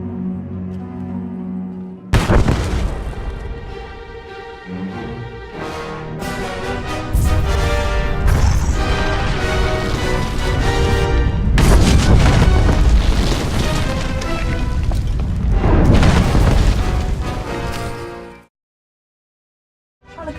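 A massive building explosion in Star Wars: The Old Republic on Corellia brings down thousands of tons of rubble, loud booming blasts and crashing debris rolling on for about fifteen seconds before cutting to silence.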